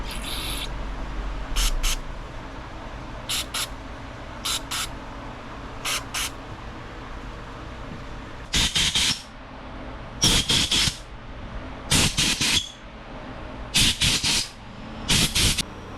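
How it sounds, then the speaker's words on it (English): Short hissing bursts of WD-40 sprayed into the passages of a crashed Dirt Late Model race car's carburetor, two quick pairs of faint puffs followed by several longer, louder sprays in an irregular rhythm, close up with no talking. "Go get some the WD-40, which is the best tool in my arsenal."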